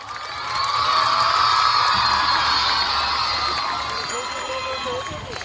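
Students and guests at a school function in Keshod clap and cheer, a loud sustained crowd roar with shouts and whoops swelling and slowly easing, voices mixed into the noise.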